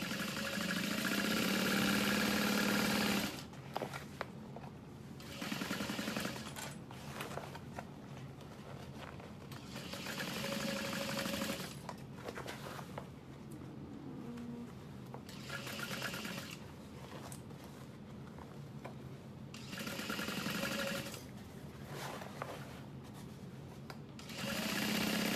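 A sewing machine stitches through layered fabric of a Bonnie Bucket Bag, running in several steady bursts of mechanical hum separated by short pauses, close and fairly loud.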